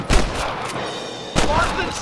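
Gunshots in the video game Red Dead Redemption, two loud sharp blasts about a second apart, each followed by a short rumbling decay, up close.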